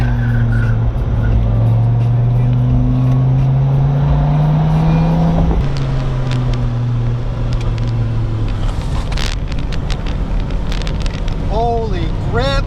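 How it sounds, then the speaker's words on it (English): A Dodge Viper is driven through hard, aggressive corners, its engine droning loudly with rising and falling pitch under heavy wind buffeting, with a sharp tire or suspension crack near the end. "Here are some clips of me doing some hard cornering in this car, and this is like really aggressive cornering."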